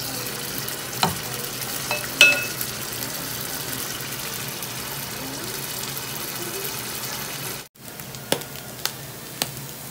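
Tuna sisig frying over low heat in a pan, browning into a crisp sizzling dish; a steady, soft hiss of frying with occasional stirring clinks, briefly interrupted near the end, no talking.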